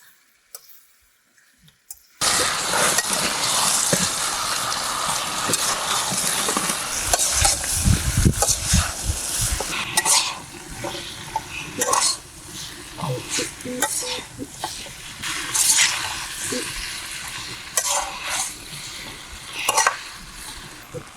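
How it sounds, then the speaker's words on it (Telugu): Dragon chicken is stir-fried in a pan outdoors, a loud close sizzle starting abruptly after a short silence, with repeated scraping, tossing and metallic clanks of the spatula against the pan. "దాని తర్వాత అయితే మనం చికెన్ వేసేసుకొని మొత్తం కలిపేసుకోవాలి"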